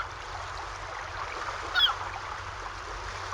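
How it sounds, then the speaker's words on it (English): Rain and water relaxation sounds play from the Amazfit Zenbuds sleep app: a steady, even hiss of falling water with no voices, holding constant throughout. "There's various types of rain sounds, some water sounds, and white noise sounds that I think most people can enjoy quite a bit when falling asleep"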